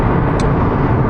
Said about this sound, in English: it always sounds like the engine's having to work very hard, and the wind noise and tyre noise